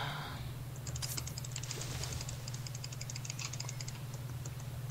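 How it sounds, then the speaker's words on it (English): Rapid computer mouse clicking during a Minecraft session, a dense string of sharp clicks over a constant low hum. "Nathaniel, your mouse got really loud, really fast."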